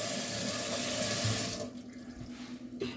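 Dishes are rinsed under a running kitchen sink tap, with a steady broadband rush of water for about a second and a half that then drops away to quieter trickling and handling.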